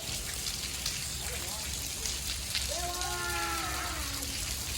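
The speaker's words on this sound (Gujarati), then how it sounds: "ઓહો વરસાદ તો આવે હો." Steady broadband hiss of rain falling on surfaces throughout, with voices talking over it and a brief tonal whine near the end.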